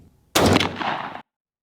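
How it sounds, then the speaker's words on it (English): A single loud, close .410 shotgun blast from a Rossi Tuffy turkey gun loaded with Wilson Custom Loads #10 shot through an Indian Creek choke, sharp report with a short ringing tail, then silence. "We got the 390 on the right, the 385 on the left, using 10s from Wilson Custom Loads out of the Rossi Tuffy Turkey."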